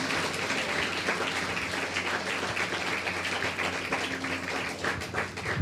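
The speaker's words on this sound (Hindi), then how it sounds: "जोर से ताली बजाएंगे, आमीन।" A church congregation claps together during a Hindi-language Sunday sermon, producing dense, steady applause that fills the room at a consistent level from start to finish.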